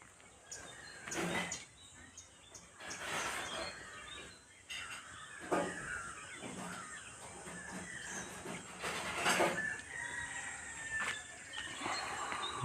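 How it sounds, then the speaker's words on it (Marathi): Outdoor morning birdsong with several birds calling, some rooster-like crowing among them. The calls come in repeated bursts over a steady hiss and carry on throughout at moderate, fairly distant loudness, with no talk. "बघा किती छान पक्ष्यांचा आवाज येतोय."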